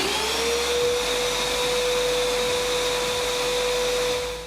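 A TACKlife PVC05B wet/dry shop vac runs continuously with a loud, steady motor roar and a rising whine that settles into a constant pitch.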